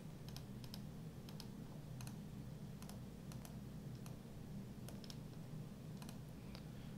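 A computer keyboard is being typed on to enter a password, light irregular clicks in small bursts over a steady low background hum, with no talking.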